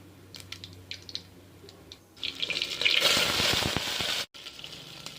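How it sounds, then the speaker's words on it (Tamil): Small onions, green chillies and curry leaves hit hot oil for tempering, setting off a sudden loud burst of hissing, spattering sizzle after a couple of seconds of quiet kitchen clatter, then cutting off abruptly. "போட்டுட்டு நல்லா தாளிச்சிட்டு வதக்கி எடுத்துருங்க."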